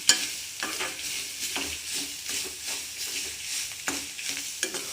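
Sun-dried vathal and curry leaves fry in a hot pan, giving a steady close sizzle broken by repeated scraping stirs, with no voices.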